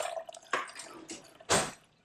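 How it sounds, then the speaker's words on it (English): Coconut water pours into a pitcher in a few short, splashy bursts with trickling between them, the last gush the loudest and closest, and no talking. "If you can pour a cup of coconut water into the pitcher,"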